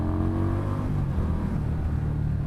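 A 2018 Indian Scout Bobber motorcycle accelerating hard on the road, its engine giving a steady, deep rumbling drone that holds loud and close throughout.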